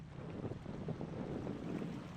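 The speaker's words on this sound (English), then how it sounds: "I can hear the water." Steady flowing water ambience from the video game Year Walk, a broad continuous wash that stays even and fairly close throughout, with no speech over it.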